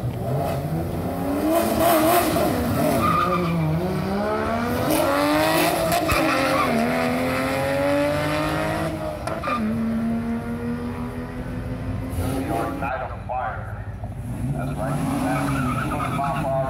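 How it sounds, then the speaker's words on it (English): Race cars at Orlando Speed World skid and rev with steady, loud engine roar and sliding tire noise, rising and falling pitch throughout, with some background voices mixed in. "let's watch some racing."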